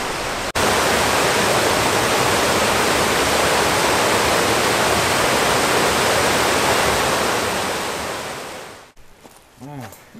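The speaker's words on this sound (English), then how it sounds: "If you have a look at the waterfalls, you can see how square cut the waterfalls are here" Water pours over square-cut rock at a waterfall, a loud, steady broadband roar that fills the scene for about nine seconds before cutting off abruptly, leaving a brief quieter tail.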